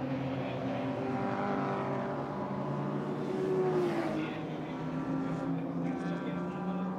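Race cars at the Hungaroring circuit heard from a distance, a steady droning engine hum with a rising whine as cars push into a corner, the sound blended and fairly faint over the whole clip.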